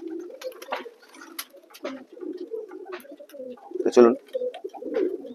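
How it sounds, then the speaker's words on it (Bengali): Lotan pigeons coo in a loft, a close series of soft, rolling coos with one louder burst, while someone speaks briefly. "এই যে লফটে দেখছেন, এগুলো সব লোটন পায়রা"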